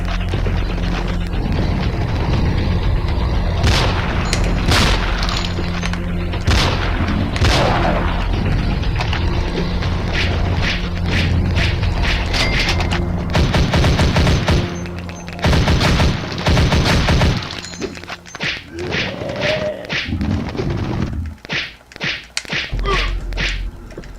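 Explosions and gunfire from the video game Zombie Age 2, a loud, dense run of booms, shots and sharp impacts that keeps going for the whole stretch, thinning a little toward the end, with no one speaking.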